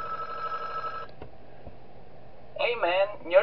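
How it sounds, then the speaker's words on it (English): An in-game phone ringing in the horror game Five Nights At Wario's, a steady electronic ring lasting about a second, then a couple of clicks and a pause before a voice starts talking. "Do we get a phone call?"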